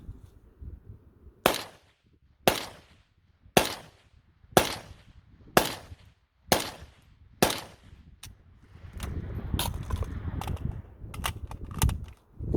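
A New Century Arms VSKA rifle fires eight sharp, evenly spaced shots, roughly one per second, followed by a looser cluster of quicker, fainter reports over a rumbling background.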